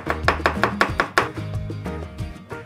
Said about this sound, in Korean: 반 자르고 이렇게 마늘 좀 자를게요.